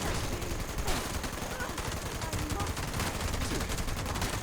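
Rapid automatic gunfire from a gun in Fallout 76, loud bursts of shots repeating throughout with dense, crackling impacts and little pause between them.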